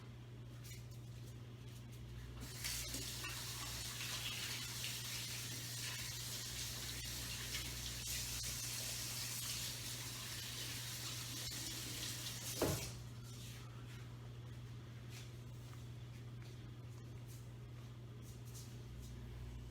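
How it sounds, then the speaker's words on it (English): Water runs steadily from a kitchen tap as hands coated in butter from cinnamon roll dough are rinsed, a continuous close gush with a low background hum and one brief clunk near the end. "quickly rinse off with water and then put soap on to break up the grease"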